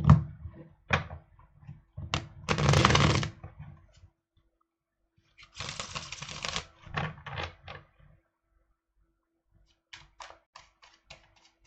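Tarot cards are shuffled in bursts of riffling and slapping, with clicks and taps between pauses, close and fairly quiet.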